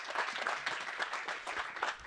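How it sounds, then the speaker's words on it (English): Steady round of applause from a conference audience at a PyLondinium Python meetup, many hands clapping in a continuous, even wash, moderately distant and fairly quiet. "A big round of applause for Mario."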